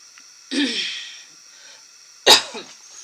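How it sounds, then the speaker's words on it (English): Two sharp coughs, close and loud, about two seconds apart, the second harsher and followed by a short breathy trail, in a quiet room during a cross-stitch work-in-progress show. "Sorry, cough."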